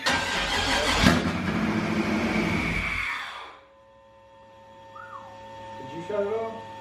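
An LS-swapped BMW E36 on a dyno runs loud and close, a steady engine roar for about three seconds that then cuts off to a low hum before a brief second revving burst, with people talking over it.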